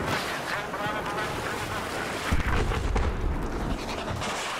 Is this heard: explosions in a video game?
yes